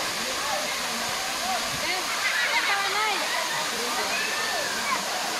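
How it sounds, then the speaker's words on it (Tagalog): Can-Umantad Falls in Candihay, Bohol, pours as a steady, loud broadband rush of falling water throughout, with a person talking over it. "Ito ang Kan Umantad Falls."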